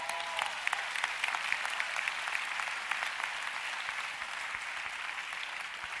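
Congregation applause at a church message, a sustained wash of many hands clapping heard from a distance, even and fairly faint, with a few sharper claps standing out early on.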